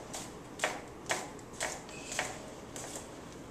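Knife slicing through an onion on a cutting board: six distinct, fairly crisp chops spaced about half a second apart, close and moderately loud over quiet room tone, with no talking.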